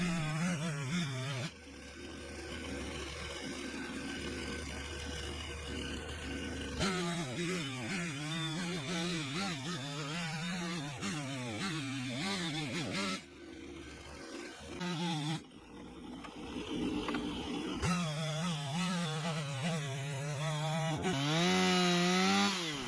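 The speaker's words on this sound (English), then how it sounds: "the most strenuous things a chainsaw can do, so you'll hear it running in the background" A loud chainsaw engine runs continuously after milling lumber, its pitch rising and falling as it revs and bogs, with a brief drop in the middle before roaring on.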